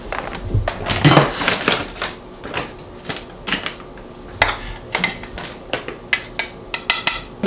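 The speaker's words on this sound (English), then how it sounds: "I'm going to be sifting my almond flour just to make sure that it is nice and fine" Almond flour and baking powder being sifted in a kitchen, a run of close, sharp metallic taps and rattles with an irregular rhythm, louder bursts scattered between quieter scraping.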